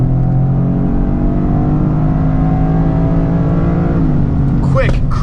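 A 2025 Toyota GR Corolla with an 8-speed automatic accelerates hard in track mode, its engine droning steadily as it climbs, then a quick gear shift near the end drops the revs before they rise again, with a brief burst of tire or wind noise.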